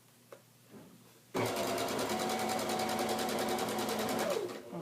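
A sewing machine stitches a welted decorative pillow cover, starting abruptly after a brief quiet and running loud and steady in a fast, even rhythm for several seconds before slowing.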